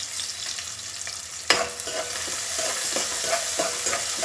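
Vegetables frying in a pan for a gujju-style curry, giving a continuous close sizzle with a sharp clatter near the start and a few soft stirring scrapes afterward, with no talk.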